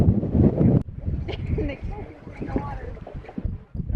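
Gusty wind buffets the microphone out on a lake while fishing from a boat near Witch Bay, a steady low rumble with a louder burst at the start, and muffled voices underneath.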